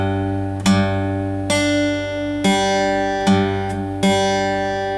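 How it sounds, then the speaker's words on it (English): Acoustic guitar picking a song's intro pattern slowly, five separate ringing plucks with sustained notes decaying between them, close and clear with no talking. "So let me just demonstrate that to you again in slow motion."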